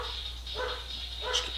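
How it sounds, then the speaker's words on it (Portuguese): A dog barks twice in the background, faint and somewhat distant, over a steady low hum in a room with no talk. "Ignora o latido do cachorro."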